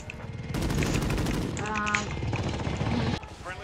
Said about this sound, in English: there's like some shooting going on here.